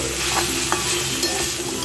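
Shrimp fries with chana saag in a pan, giving a steady close sizzle with light scraping and stirring throughout.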